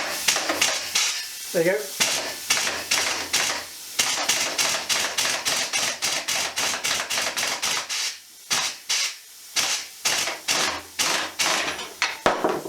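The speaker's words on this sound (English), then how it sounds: "we're going to use the impact wrench to try and snap it open." An impact wrench hammers in rapid repeated bursts at a motorcycle's front fork bolt during a cafe scrambler build, each burst loud and close, with short pauses between and a voice briefly speaking.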